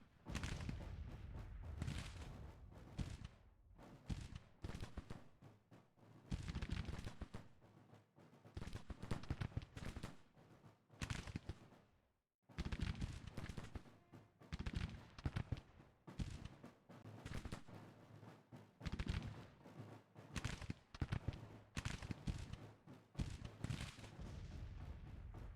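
Civil War artillery in Grand Tactician fires in repeated heavy bursts, dense volleys of booms and crackling shots rolling on and off throughout, with a brief silent gap midway and no voices.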